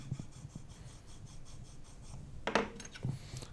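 A 90-degree V-tool carving chisel is polished on the corner of a piece of timber loaded with cutting compound. Quick, faint rubbing strokes repeat evenly up close, ending in a couple of sharper scrapes.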